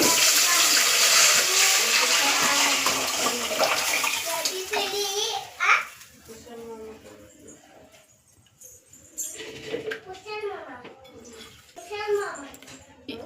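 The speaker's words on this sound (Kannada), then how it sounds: "ಈ ಪಾತ್ರೆಗೆ ಸ್ವಲ್ಪ ನೀರು ಹಾಕಿ" Water gushes loudly into a pot of lentils for several seconds, then tapers off into clinks and movement while a voice talks.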